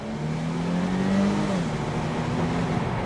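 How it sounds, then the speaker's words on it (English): A supercharged Jaguar XFS engine at low revs, a steady whine and engine drone held close and constant, dipping slightly in pitch partway through, with no talk over it. "You hear the supercharger whine more at lower revs, like on a real dig."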